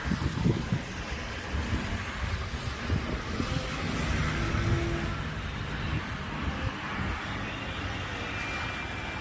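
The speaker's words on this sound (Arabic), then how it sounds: "الهوا شديد والجو ساقع" Strong wind blowing on a cold, rainy day in Badr City, a continuous broad roaring rush buffeting the microphone with gusty swells and no voices.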